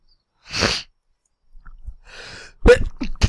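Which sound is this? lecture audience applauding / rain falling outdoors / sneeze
sneeze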